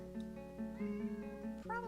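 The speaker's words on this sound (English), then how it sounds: "I don't know if you can hear my cat meowing at me right now." A pet cat meows insistently close by, a couple of drawn-out, rising and falling cries in quick succession, clear and fairly quiet.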